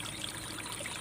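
Clear water from a mountain stream running steadily, a soft continuous trickling and rushing heard close by and alone.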